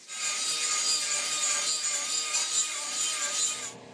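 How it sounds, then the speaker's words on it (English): A die grinder grinds down welded ends on a metal wire winder spool, producing a continuous, close, high-pitched abrasive whine that holds steady for several seconds before cutting off. "Take the die grinder to it."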